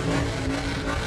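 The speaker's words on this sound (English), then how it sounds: "that truck is too loud" A loud truck engine drones steadily nearby at a hot outdoor live event, a dense continuous rumble with no breaks and no voices over it.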